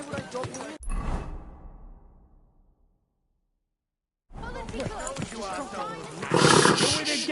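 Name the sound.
horse neighing and hooves in video game Kingdom Come Deliverance 2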